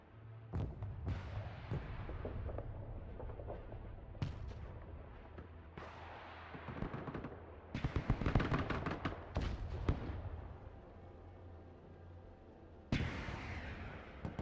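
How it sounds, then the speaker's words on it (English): Many missiles launching and striking in the real-time strategy game Broken Arrow, a rapid scattered series of sharp cracks and booms over a low rumble, some bursts clustered close together, at a moderate distance. "That's a lot of missiles firing."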